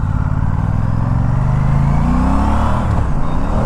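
An Aprilia RS 457 motorcycle fitted with a GPR full-system titanium exhaust cruises along, its engine droning loud and steady with wind rush, pitch shifting slightly as it changes speed.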